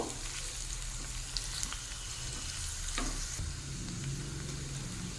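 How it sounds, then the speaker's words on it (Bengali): Sliced onion and crushed garlic frying in a pan, a dense, close, continuous sizzle with crackling spatter and occasional stirring scrapes, heard alone without talk. "রসুনটাকেও এর সঙ্গে ভেজে নেব"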